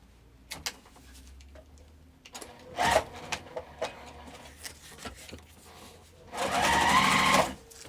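A sewing machine top stitches a seam on a vinyl crossbody bag in short bursts, with scattered clicks and handling noises between them and a longer run near the end.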